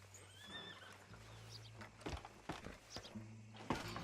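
Horses in Red Dead Redemption 2 neigh with shrill, wavering whinnies and then clop along in a trot, hooves thudding steadily at close range beneath a low ambient hum.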